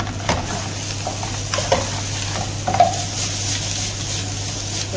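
Cardamom and cinnamon sizzle in a frying pot while being stirred for Arabic chicken majboos, with a low continuous fry and a few scattered scraping strokes, close and without voices.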